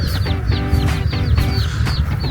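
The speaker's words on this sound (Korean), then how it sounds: "닭들이 그냥 막 돌아다닙니다" Free-roaming chickens in Hawaii, including a rooster with chicks, cluck loudly and close in a rapid, repeated chatter of short calls over a dense outdoor background.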